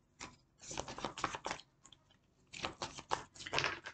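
Tarot cards being shuffled in quick papery bursts, two clustered runs of riffling and flicking separated by a short pause, close and fairly quiet.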